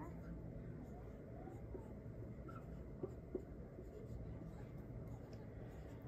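Pen or pencil writing numbers on a page while working a partial-quotients division problem, heard as faint scratching strokes with a couple of small taps, steady and close under low room noise.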